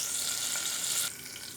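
Curry leaves and asafoetida crackling in hot oil while tempering for a Tamil Nadu style chickpea kuzhambu, a loud close hiss that drops suddenly to a quieter sizzle.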